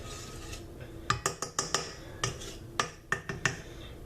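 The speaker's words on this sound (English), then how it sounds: "I'm going to give it a quick stir" A quick stir of a mixture in a bowl for shrimp Alfredo, a series of sharp clinks and taps of the utensil against the bowl in an uneven rhythm, close and fairly quiet.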